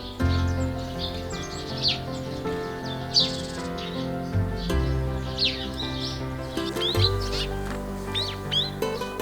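Small birds chirp and sing around a little Buddhist hermitage on a mountainside in Pocheon, with scattered bright calls over a quiet outdoor backdrop and a faint low hum beneath.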